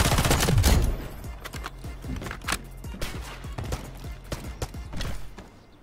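Gunfire in the video game Delta Force: Hawk Ops, a loud opening blast followed by a rapid string of shots and bursts that trail off toward the end, with no talk.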